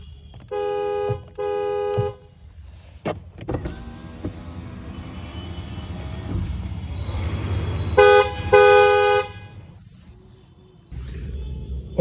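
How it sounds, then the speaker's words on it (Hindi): An aftermarket horn on a Volkswagen Taigun sounds in a few loud, sustained toots: two short blasts near the start and a longer double blast later, heard close up with little else around. "ये हॉर्न की आवाज़ आप सुन लीजिए।"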